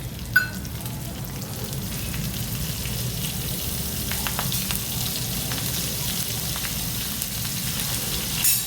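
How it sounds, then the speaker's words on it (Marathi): Green chillies and asafoetida fry in hot oil with a steady, even sizzle and crackle throughout, close and alone, with a faint pop near the start. "तेलावर पांढरा रंग येईपर्यंत परतून घेऊया."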